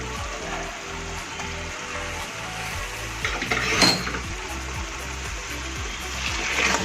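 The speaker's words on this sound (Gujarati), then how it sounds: "હવે આને આપણે આ રીતે મેશ કરી દઈશું." A utensil mashes and scrapes a crushed paneer gotala mixture in a pan, a steady rhythmic tapping and scraping of metal against the cooking surface that goes on without pause.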